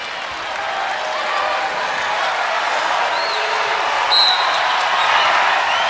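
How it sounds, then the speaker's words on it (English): An arena crowd at a UCLA at Washington women's college volleyball match in Alaska Airlines Arena keeps up a steady, fairly loud roar of cheering and noise. A commentator's voice sits faintly underneath. "The crowd at Alaska Airlines Arena trying to make some noise."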